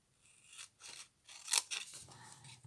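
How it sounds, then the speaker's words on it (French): Scissors snip through fabric being trimmed for a simple pouch, several short close cuts in an irregular rhythm, quiet and alone. "je coupe un peu en biseau"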